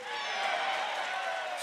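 A college softball crowd at an Ole Miss versus Mississippi State game cheers in a brief, dense roar that swells slightly at the end.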